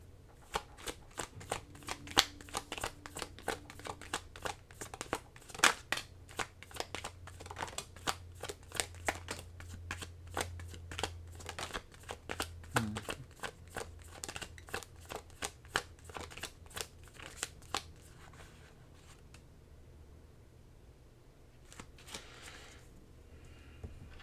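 Tarot cards being shuffled in a long, steady run of crisp, rapid riffles and flutters, close and clear, with no talk over them, tapering off near the end.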